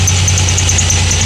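A Pontiac Grand Prix engine idles steadily after a fuel injector repair, a loud, close, even hum with a constant high whine above it.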